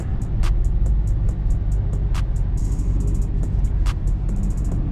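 A Chevrolet C7 Corvette rolls up to a Thursday night car meet. Its engine gives a steady, close, low rumble throughout, and faint clicks tick repeatedly over it.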